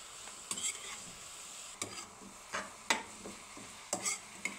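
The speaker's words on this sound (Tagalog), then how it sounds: "Kapag luto na ang gulay, ilagay na natin ang noodles na ating pinakuluan. At haluin natin." A utensil stirs and tosses boiled pancit canton noodles with cooked vegetables in a pan, giving scraping clatters at irregular intervals over a faint sizzle, with no voices.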